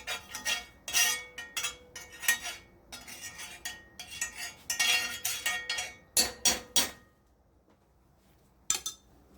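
A metal spoon scrapes and clinks against a hot cast iron pan while stirring melting bacon grease, in a run of close, bright bursts that stop near the end with one last clink.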